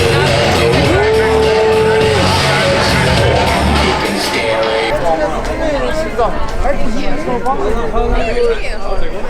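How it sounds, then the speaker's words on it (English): Audience members arriving at a comedy club for an improv show fill the room with loud, close crowd chatter and overlapping voices, with people talking nearby. "Crowd's getting here."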